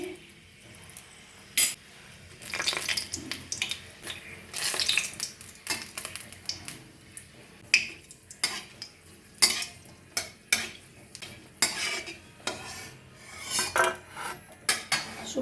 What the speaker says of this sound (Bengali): বেশ খানিকটা সর্ষের তেল দিয়ে দিচ্ছি একটা শুকনো লঙ্কা ভেজে নিচ্ছি